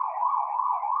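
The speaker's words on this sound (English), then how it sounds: "ambulance." A siren wails with a steady, slightly wavering tone from a passing ambulance, heard clearly and alone for about a second before cutting off abruptly.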